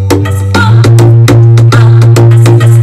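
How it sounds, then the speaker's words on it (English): Deep, loud bass line of an Afrobeat beat, a sustained low tone under a regular pattern of punchy percussive hits, close and alone. "the bass sounds like this"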